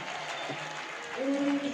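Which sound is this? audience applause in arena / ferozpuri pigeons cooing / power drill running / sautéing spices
audience applause in arena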